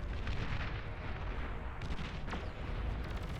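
Artillery shells explode in a strategy video game as a rumbling, low-heavy roar of continuous booms and blasts, dense and sustained, with a few sharper cracks near the end.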